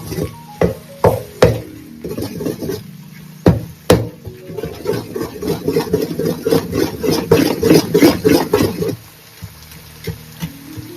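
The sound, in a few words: stirring egg in noodles pan while it cooks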